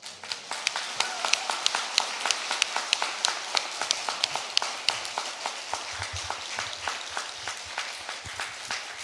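Steady applause from a congregation at a church anniversary worship service, with dense overlapping claps at moderate distance, continuing evenly throughout.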